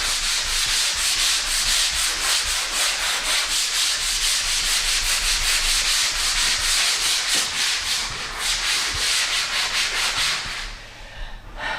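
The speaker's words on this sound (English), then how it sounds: "and then I put on more joint compound, and then I come back and I sand it." Steady, continuous rasping strokes of sandpaper over dried joint compound on an interior wall, close and loud, running in a repetitive back-and-forth rhythm with no talk until a brief pause near the end.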